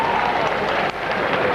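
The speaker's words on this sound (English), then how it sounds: "ripple of applause round as the man in red begins to refine the form" Applause rippling through the crowd at a bowls finals day, a steady broadband patter of many hands that swells and dips briefly, with crowd murmur mixed in.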